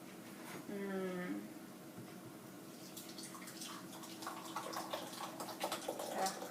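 Vitamix-blended tortilla soup is poured into a bowl that held tomatoes, giving a soft continuous splashing pour that thickens into wetter spatters near the end, under a person talking.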